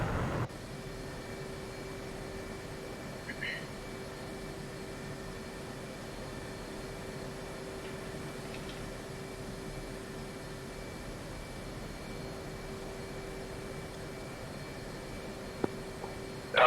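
A jet in the DCS flight simulator taxis with a steady low engine whine and a constant tonal hum, even and moderately quiet throughout, with a couple of faint clicks near the end.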